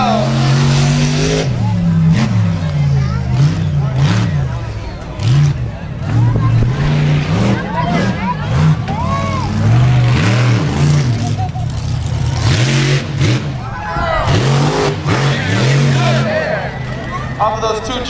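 A monster truck at a live show revs hard and roars continuously for the whole stretch, loud and close, with engine pitch sweeping up and down while an announcer talks over the noise.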